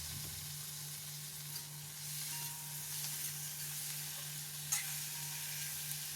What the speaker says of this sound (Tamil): இப்போ தக்காளி பழம் போட்டுக்கலாம். போட்டு இதை நல்லா கலந்து விட்டுப்போம்.